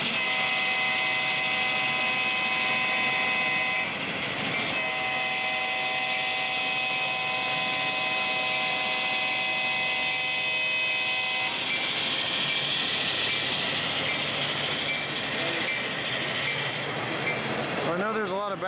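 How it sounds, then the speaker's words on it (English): A model diesel locomotive runs steadily with a loud sustained horn chord, a bell-like ringing and motor hum underneath, noisy model-train show hall background in Milwaukee, Wisconsin throughout. "Let's take a listen to the bell and horn and some of the motor."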